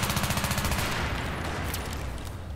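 Rapid automatic P90 fire in Battlefield 3, a close, loud burst of quick rhythmic shots for about a second, trailing off into echoing battle noise with a few sharp cracks.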